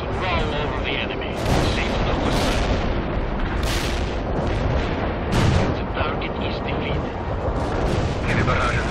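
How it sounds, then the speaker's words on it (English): Artillery barrage in World in Conflict: Soviet Assault, a dense, continuous roll of heavy booms and blasts, with several sharper, louder explosions bursting through the rumble, close and powerful throughout. "Artillery strike is inbound."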